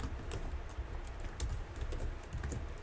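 Rapid keystrokes on a computer keyboard rattle in a quick, uneven stream over a noisy background hiss, with no one speaking.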